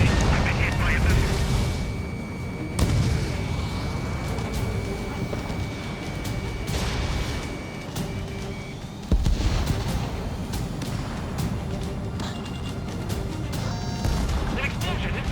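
Ace Combat 7 combat audio: a missile strike explodes with a sharp crashing burst, followed by rumbling blasts, jet noise and radio chatter layered over continuous engine drone.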